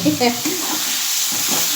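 Steady sizzling of banana flower paste frying in a pan, with brief stirring scrapes near the start and a continuous hiss throughout.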